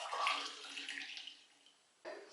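Hot milk poured from a pan into a cup, a soft splashing trickle for about two seconds that fades, then resumes briefly.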